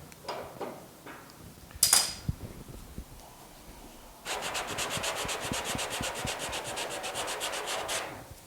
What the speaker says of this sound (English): Sanding into some body filler right here